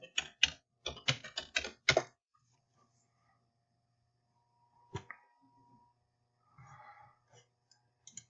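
Quick bursts of typing on a computer keyboard, a rapid cluster of keystrokes followed by a long quiet stretch and a few scattered taps, faint and close.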